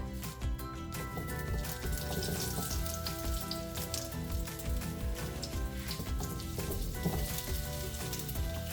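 Mustard seeds pop and sizzle in hot oil in a pan, making a dense, continuous crackle with scattered sharp pops throughout, close and fairly loud, with no voices.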